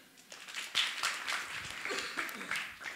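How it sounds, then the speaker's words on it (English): A church audience gives a short burst of applause, scattered hand claps building quickly and then thinning out, fairly faint in a large room. "Come on, give him a clap."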